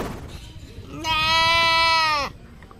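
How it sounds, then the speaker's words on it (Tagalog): A limping goat in Cabanatuan City, Nueva Ecija gives a single loud, drawn-out bleat lasting about a second, close by, over a murmur of background noise. "Tila nagsusumbong naman ang kambing na ito habang iika-ika sa paglakad"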